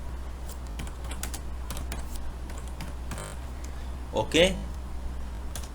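Keys tapped on a computer keyboard during a computer science lesson on libraries, soft scattered clicks running throughout beneath a quiet room hum, with a brief spoken remark.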